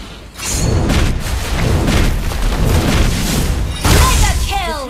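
A turret being destroyed in a ranked 4v5 multiplayer battle game gives a loud, sustained booming explosion with crackling bursts, rolling on for several seconds, then a fresh blast with whooshing debris near the end.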